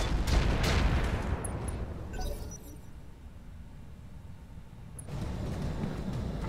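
Mech weapons firing in the video game Roguetech, a loud dense volley of blasts and crackling impacts that fades into a quieter rumbling lull before another burst of fire swells back in.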